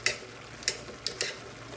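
Steak taco meat cooking in a pan on the stove, soft sizzling with a few sharp clicks of a utensil stirring and scraping against the pan, fairly quiet and close.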